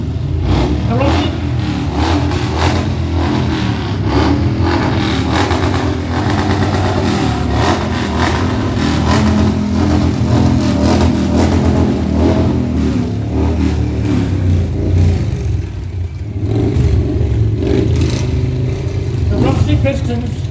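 Motorcycles rev loudly at a St. Patrick's Day parade in Ballincollig, a near, sustained rumble with repeated throttle surges and idling, with people talking underneath.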